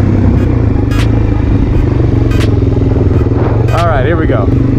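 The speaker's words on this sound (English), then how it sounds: "Oh, wheel spin." A 400cc motorcycle's rear wheel spinning up under a burst of throttle while practising wheelies, heard as a loud, close, continuous engine drone, with someone talking over it.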